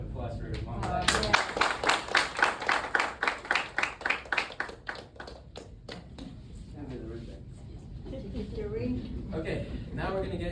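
A small audience claps for Mom and Dad after a student's ISM presentation. The applause is brief and fairly close, fading within a few seconds, and talking follows.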